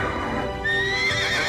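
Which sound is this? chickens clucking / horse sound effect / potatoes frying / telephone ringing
horse sound effect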